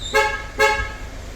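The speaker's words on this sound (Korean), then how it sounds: "준비가 다 되면 빵빵." Two short, bright horn toots from a car fitted with a Mikey Premium 3 Advance factory alarm signal that warm-up and remote start are done, heard up close and clear over a low background rumble.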